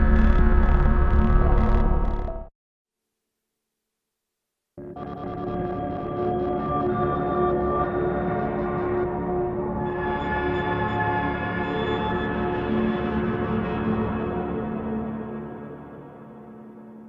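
A short dry music phrase stops, and after a brief silence a dense, droning texture from a Hologram Microcosm glitch effect swells in, humming and throbbing steadily before fading at the end.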